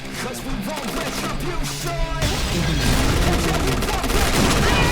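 Heavy gunfire from a Barrett sniper rifle in a video game, booming shots mixed with other game effects and a chaotic firefight, loud and dense, with voices talking over part of it.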